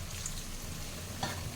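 Vada fritters fry in hot oil, cooking through to a crisp finish. A soft, continuous bubbling sizzle runs quietly throughout, with a low background hum and no speech.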